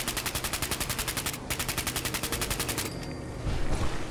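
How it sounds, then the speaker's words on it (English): A splatter cannon from a Fallout mod fires in a fast, steady stream of rapid shots. The burst is loud and sustained, pauses briefly, resumes, then gives way to a heavier rumble. "this splatter cannon works well"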